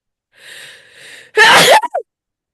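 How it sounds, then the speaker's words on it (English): A single loud, explosive sneeze preceded by a drawn-in breath, ending with a couple of short gasps, close and alone. "that was like a different kind of sneeze for you"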